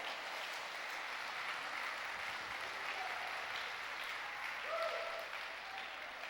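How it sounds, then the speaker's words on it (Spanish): A church congregation applauds steadily at a sermon, a dense, even wash of clapping that holds for several seconds with no talk over it. "Dele un fuerte aplauso al Señor."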